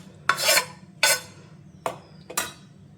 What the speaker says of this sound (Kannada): ಇವಾಗ ಇದನ್ನು ಇನ್ನೊಂದು ಪಾತ್ರೆಗೆ ಹಾಕೊಳ್ತಿದ್ದೀನಿ